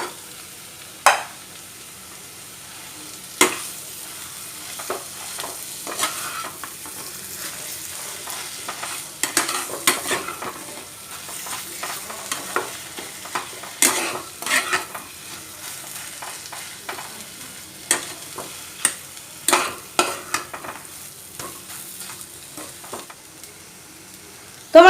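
Potato and soybean spring roll stuffing fries quietly in a pan while a spoon scrapes and stirs it, with intermittent sharp clacks against the pan over a soft sizzle, no talking.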